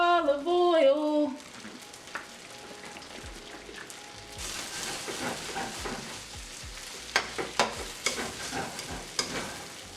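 Vegan stir fry sizzling and crackling steadily in a hot pan with soy sauce added, loud and close, with a brief musical tone at the start and sharper spitting pops toward the end.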